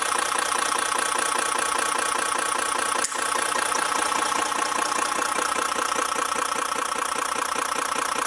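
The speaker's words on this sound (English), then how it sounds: "600 RPM, 8M3 Caterpillar." A Caterpillar 8M3 diesel engine idles at 600 RPM, a loud, steady rhythmic chug with even pulses throughout and one brief dip partway, with no talking.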